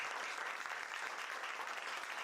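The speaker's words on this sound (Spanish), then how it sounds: "le vamos a dar un fuerte aplauso caluroso desde Brasil" An audience applauds a woman author being introduced at a Spanish-language talk, a dense, even patter of clapping heard faintly and at a distance, steady for the whole short stretch.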